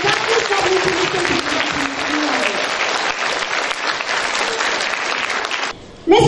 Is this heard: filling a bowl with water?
no